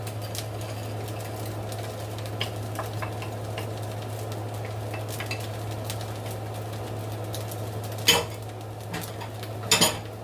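Fried rice with mixed vegetables is stirred in a pan, making scattered clinks and scrapes of a utensil against metal over a constant low hum, with a couple of louder clatters near the end.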